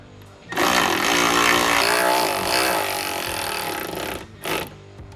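A power driver sinks screws into a ladder bracket on a Toyota 4Runner, a loud close whirring burst lasting several seconds, then a short second pulse, no talking.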